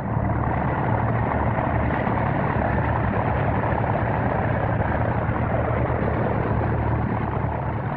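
Replica 1930s biplanes in flight, a continuous droning engine hum with a rough, buzzing texture, steady and moderately loud with no voices.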